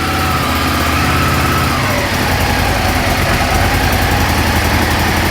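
A Yamaha XVS650 motorcycle, restored to standard, idles steadily and up close with a constant, even engine rumble throughout.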